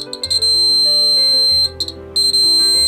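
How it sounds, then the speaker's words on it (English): Piezo buzzer in a simple battery-powered water tank alarm circuit: loud, shrill electronic tone with sharp on-off beeps, heard close and alone. "You will observe that the buzzer starts to beep."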